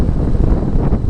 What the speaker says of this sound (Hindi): यहाँ पर हवा का प्रेशर बहुत ज़्यादा है। इतनी तेज़ हवा है